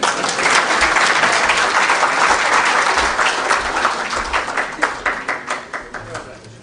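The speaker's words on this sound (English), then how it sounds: "Another round of applause for our guests this afternoon." Audience applause at a Kenyan political gathering after a farewell speech by Raila Odinga, dense and sustained clapping that thins toward the end into a few separate, closer claps, with some voices underneath.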